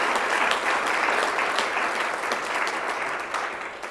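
An audience claps steadily in a dense wash of applause, sustained throughout and gradually tapering slightly toward the end.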